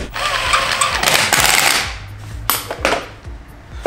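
An impact wrench tightens the wheel bolts on a Volkswagen Amarok fitted with new rims and tires, hammering loudly in a long rattling burst and then in several shorter, sharp bursts close by.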